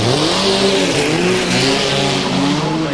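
Two vintage speedcars, a Sesko and an Offenhauser, race at a Brisbane speedway, engines roaring loud and close with rising and falling revs that sound like cars going through a turn.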